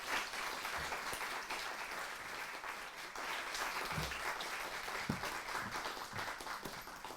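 An audience at an International Women's Day lecture in Oxford gives a round of applause, heard as a faint, continuous patter of many hands clapping with a few louder individual claps.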